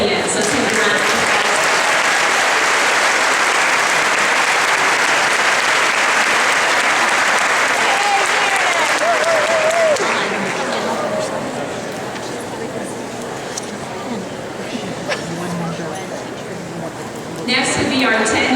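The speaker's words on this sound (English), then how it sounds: "Let's give a round of applause." Loud, sustained applause from a crowd gathered for a county opening-day event honoring five-year recipients, continuous and dense for about ten seconds before thinning and fading, then swelling briefly again at the end.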